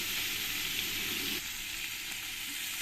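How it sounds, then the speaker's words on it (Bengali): Koi fish crisping in hot oil give off a dense, continuous close-up sizzle that eases slightly partway through, with no voices. "মাছগুলোকে আমি এপিট ওপিট করে কড়া কড়া করে ভেজে নেব"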